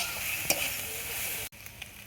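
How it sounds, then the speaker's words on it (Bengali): Soya chunks are stirred through a fried spice paste in a village kitchen pan: a steady close sizzle with a sharp spoon scrape, then an abrupt cut to a quieter, fainter fry with a couple of light clinks. "সয়াবিনটা দেখতে নেড়ে চেড়ে নেব।"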